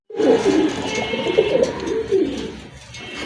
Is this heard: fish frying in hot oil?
no